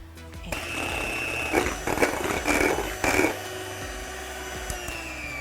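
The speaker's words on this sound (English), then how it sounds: "we're going to beat them just until we get some stiff peaks. So then we can fold it back in, grab the mixer here." An electric hand mixer whirs steadily while beating egg whites to stiff peaks in a home kitchen, its motor hum continuous and close, with a few brief louder surges as the beaters knock against the bowl.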